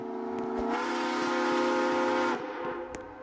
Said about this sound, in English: sorry, my friend's just playing with a horn.